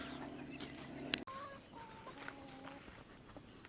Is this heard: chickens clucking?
yes